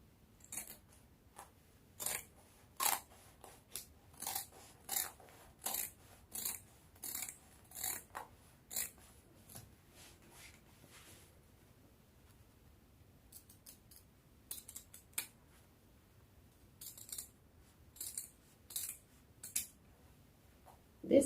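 Scissors cutting out the back piece of a maxi circle dress from fabric, a quiet close series of crisp snipping crunches in uneven bursts with short pauses, alone without talk.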